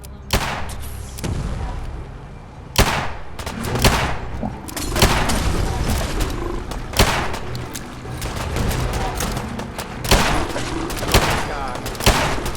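Rapid gunfire and heavy booms from a Fallout 4 Far Harbor battle in the fog, loud and close, with repeated sharp volleys and thuds in irregular bursts over a continuous rumbling backdrop.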